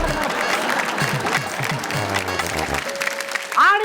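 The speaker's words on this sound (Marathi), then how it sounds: "जोरदार टाळ्या होऊन जाऊ देत" A game show audience claps and cheers for the winning women contestants, steady crowd applause for almost three seconds that drops out into quieter sound, with a brief tonal musical effect near the end.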